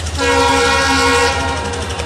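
A train's loud horn blares steadily over rumbling rail noise, then tapers as the train rolls into a platform in Guwahati.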